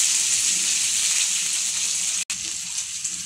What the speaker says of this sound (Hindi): प्याज को हम थोड़ा ब्राउन कर लेंगे।